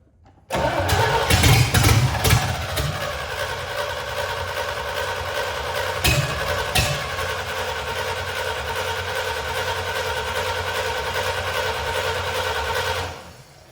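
An old Ford C65 dump truck, left unused for ten years, cranks briefly and then catches, settling into a steady, loud idle that runs for about ten seconds before cutting off.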